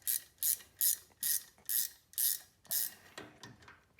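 A ratchet wrench clicks rhythmically while loosening a bolt on a Honda VTX1300C foot control bracket, about seven evenly spaced bursts of close ratcheting followed by a few softer, irregular clicks, with no talking.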